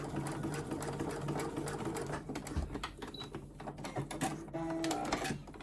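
Sewing machine topstitching denim at a longer stitch length, a steady close mechanical whirr and rapid needle chatter running continuously, with a brief pause and shift in tone near the end.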